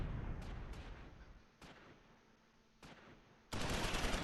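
Machine-gun and mortar fire in the World War II strategy game Close Combat IV at Udenbreth: a steady rumble of distant shooting broken by several sharp, loud bursts and blasts, ending in a heavy sustained salvo.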